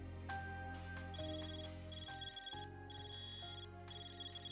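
A cipher phone rings in the video game Trails Beyond the Horizon, a repeating electronic ringtone of bright chiming tones over a steady low hum, fairly quiet and unaccompanied by speech.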